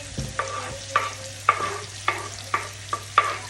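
Garlic and onion sautéing with white wine for squid mekus mekus, a steady sizzle under about seven rhythmic stirring scrapes spaced roughly half a second apart, close and moderately loud.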